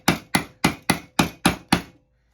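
A woodworking chisel is struck seven times in an even rhythm as it is driven into wood, each sharp, close knock decaying quickly before the next, then silence.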